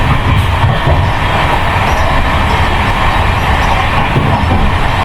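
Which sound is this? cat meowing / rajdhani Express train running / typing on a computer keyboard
rajdhani Express train running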